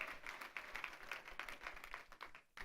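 A church congregation claps together in a quick, rhythmic burst of applause, moderately close and steady, cutting off abruptly near the end.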